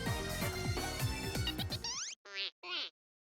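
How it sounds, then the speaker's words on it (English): A phone ringtone from the game Digimon Cyber Sleuth cuts in loudly over game music, then repeats as two short, bright electronic chirps separated by silence. "at least use a ringtone that doesn't suck all the dramatic tension out the room"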